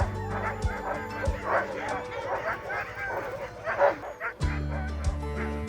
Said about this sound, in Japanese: 周りのハスキーは立ち上がって吠えてる